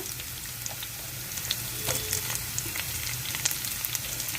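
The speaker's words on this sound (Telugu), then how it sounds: "ఉల్లిపాయలు ఇవన్నీ బాగా వేగిపోవాలి" Onions and green chillies fry in a pan for a potato gravy, giving a steady close hiss of sizzling oil with scattered small pops and crackles.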